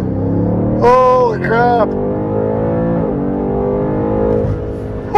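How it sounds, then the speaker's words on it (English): A BMW M8 launching hard under launch control, its engine holding a loud steady high-revving drone as all four tires spin, with a voice exclaiming briefly over the roar. "We spun all 4 tires for quite a while."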